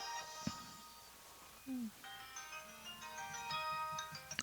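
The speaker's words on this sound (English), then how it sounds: "Sorry, that was my phone." A mobile phone ringtone plays a faint, tinkling electronic melody of repeated tones that builds over several seconds amid soft background noise and small clicks.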